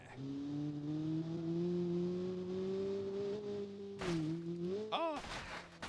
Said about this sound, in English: this idling noise is just meh